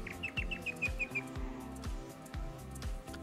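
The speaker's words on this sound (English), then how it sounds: "I love this bird noises." Bird chirps from a video game match, a quick run of small high tweets over a rhythmic low musical pulse, fairly faint and with no talking.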